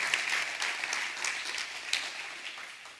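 A church congregation applauding hard during a sermon, a dense, steady burst of many hands clapping close up throughout.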